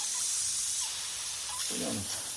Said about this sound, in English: I need to spray it down a little bit.